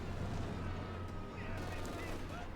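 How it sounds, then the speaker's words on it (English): A field gun fires amid a battle in the video game Company of Heroes 2, heard within a dense, continuous wash of gunfire and explosions that stays loud and steady throughout. "Field gun shoots. Narrowly misses the Grenadiers."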